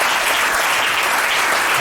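A church congregation applauds loudly and continuously, a dense wash of clapping throughout.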